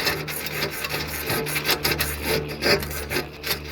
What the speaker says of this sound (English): So let's just chisel here until we maybe find something.